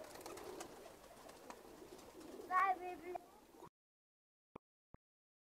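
Pigeons of various breeds coo softly in a loft, low murmuring calls under background noise, then the sound cuts off leaving near silence with two faint clicks.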